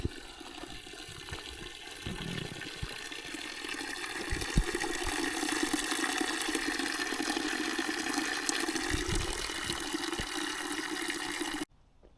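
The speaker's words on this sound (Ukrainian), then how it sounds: "Гляньте, друзі, посеред лісу і роднічок" A steady stream of spring water pours and gurgles without a break in a forest, close by and constant for about twelve seconds, with no one speaking.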